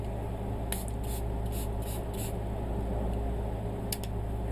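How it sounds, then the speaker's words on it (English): A spray bottle lightly mists watercolor paint in several short hissing bursts: a quick run of puffs, then one or two more after a pause. The bursts sit close over a steady low background hum. "I am going to do a light mist on my paint."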